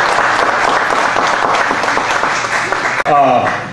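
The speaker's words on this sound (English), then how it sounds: "give them a round of applause" Applause from an audience for Hyundai of El Paso employees at a Sun Bowl sponsorship announcement, loud and sustained, with a brief dip near the end and a voice breaking in as it fades.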